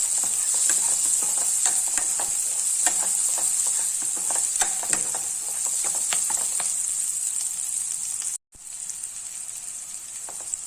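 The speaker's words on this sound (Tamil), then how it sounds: "பீன்ஸையும் சேர்த்தேன் பீன்ஸ் தான் கொஞ்சம் வேகிறதுக்கு லேட் ஆகும்" Green beans stir-frying in a hot pan for vegetable fried rice give a loud, continuous sizzle broken by repeated scraping stirs. A brief dropout comes near the end, and no voices are heard.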